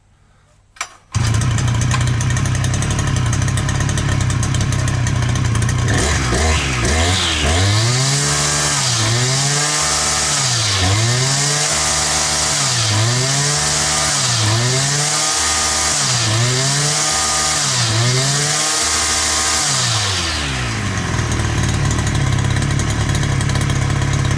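An Efco Stark 44 petrol brush cutter whose carburetor is flooding starts up, then is revved hard in a series of regular surges. Each surge climbs to a high-pitched scream and drops back, about eight times in a row, before it settles to idle. It is loud and close, and nobody speaks.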